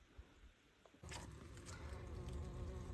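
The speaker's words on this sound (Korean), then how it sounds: "벌이 들긴 했는데요. 양벌이네." Western honey bees swarm around a trap box set high on a mountain. After about a second of near quiet, a dense, steady buzz swells in and holds close and loud.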